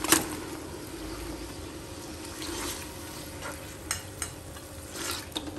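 Goat meat frying in a pot with ginger and garlic, a soft steady sizzle with occasional stirring scrapes and clinks, fairly quiet and without talk.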